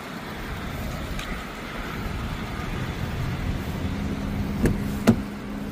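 A car driving on a Texas road trip between Dallas and Houston, likely a Subaru, gives a steady low road and engine rumble throughout, with two brief sharper knocks near the end.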